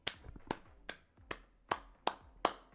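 Seven sharp, separate hand claps at a slow, even pace, close by and crisp, with nothing else around them.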